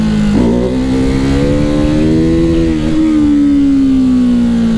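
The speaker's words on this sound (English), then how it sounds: "Clearly that revving wasn't me, officer." A Ducati 698 Mono single-cylinder motorcycle engine revs loudly and close by, rising and falling in pitch over several seconds with no speech.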